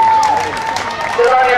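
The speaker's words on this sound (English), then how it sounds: "Give a big round of applause to the kids." Crowd applause at the Colac six-day ultramarathon race rises under a loud announcer's voice over a PA, with clapping and cheering running throughout the short stretch.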